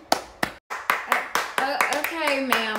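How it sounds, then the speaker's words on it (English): A few people clap in slow, spaced claps at a church-style gathering, fairly close, while voices talk and one voice rises in pitch over the final claps. "let's clap it up for Sister Me"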